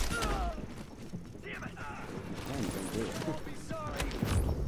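Rapid gunfire bursts in The Division video game crackle and rattle steadily throughout, mixed with game effects and someone talking over the shooting.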